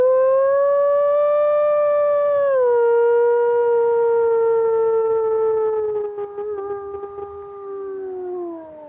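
A person in a forest imitates a long wolf howl: one sustained, wavering tone that dips midway, then trails off and fades at the end, loud and close with no other sounds.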